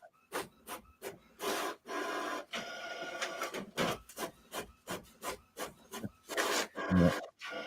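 A printer prints names for a knife giveaway: rhythmic, rasping back-and-forth strokes of the print head come in regular bursts with short pauses, close and fairly loud.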